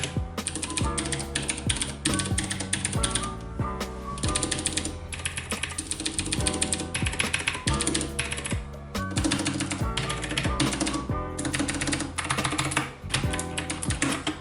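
Rapid, continuous clacking of an Anne Pro 2 60% Bluetooth mechanical keyboard, close and crisp, in steady bursts with short pauses.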